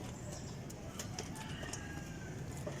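Young pigeons in a loft give faint, scattered chirps and soft coos at a distance, mixed into a steady wash of background noise.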